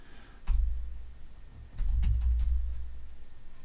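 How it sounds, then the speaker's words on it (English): A few keys are struck on a computer keyboard, a single tap followed by a short cluster of clicks and thumps, close and fairly quiet with no speech. "If I start to type, it'll narrow things down for me."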